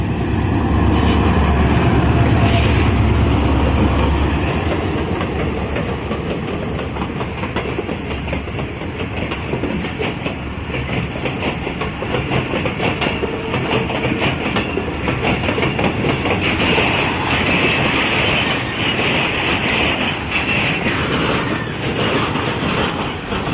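GMU-30 diesel locomotive 4715, nicknamed Blue Beauty, hauls an export special on vacuum brakes, its heavy engine drone starting loud and close, then wheels clattering rhythmically over the rails as the long train rolls past.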